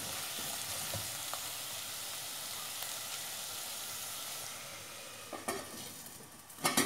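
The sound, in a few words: stirring snake gourd thoran frying in a pan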